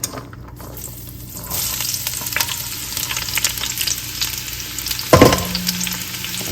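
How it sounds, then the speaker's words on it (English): Onions sautéing in hot olive oil in a pan give a steady, close sizzle and crackle, with a brief stir or clatter near the end and no talking. "let the oil heat up for a second before we add our onions to the pan"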